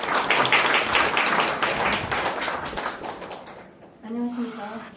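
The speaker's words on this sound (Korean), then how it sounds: "큰 박수로 맞아주시기 바랍니다." An audience at a Korean community event claps to welcome a speaker, a dense, loud burst of applause that fades over about three seconds before a voice begins speaking.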